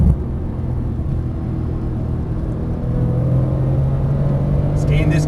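A Porsche 991 Turbo S engine drones low and steady from inside the cabin after a downshift on a track, the pitch rising slightly partway through, with a faint brief squeal near the end.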